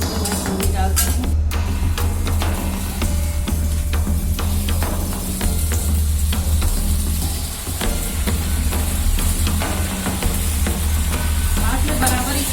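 Macaroni tipped into a pan of cooked mixed vegetables with peas and stirred, giving a steady, close sizzle and frying hiss with scraping stir noises throughout, over a low continuous hum.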